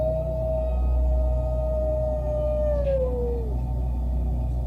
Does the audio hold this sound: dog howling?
yes